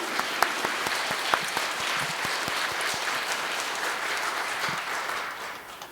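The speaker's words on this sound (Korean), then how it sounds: "이러한 신부님께 우리 모두 다시 한번 박수를 부탁드립니다" Catholic congregation at a Sunday Mass in a Seoul parish church applauding the priest, a full hall of clapping with some distinct near claps, steady and then tapering at the end.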